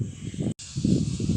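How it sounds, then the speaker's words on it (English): Sandblasting on a boat in a boatyard makes a steady, harsh hiss in the background, faint and continuous apart from a momentary break. "There is a boat being sandblasted and they're likely to be doing it for 3 days"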